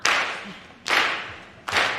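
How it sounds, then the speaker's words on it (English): Worship-service congregation clapping hands in unison, three loud, sharp group claps spaced under a second apart, each with a short decaying ring in the room. "Clap it"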